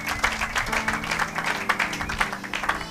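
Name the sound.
congregation applauding in church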